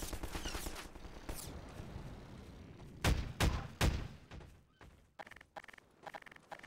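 Shotgun fire in Half-Life 2: several sharp, loud blasts in quick succession over a busy background of game combat noise, followed by fainter clattering hits.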